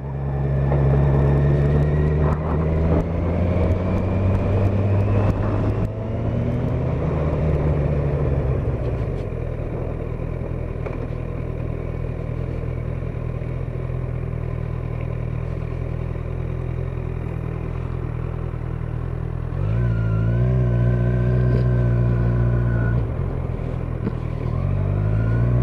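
A 2016 Kawasaki Z1000SX motorcycle rides on slow roads with a steady engine drone that runs throughout, holding near idle and then rising and falling in pitch as the throttle shifts, with a distinct rev change about twenty seconds in.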